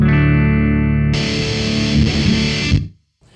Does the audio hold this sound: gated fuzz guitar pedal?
yes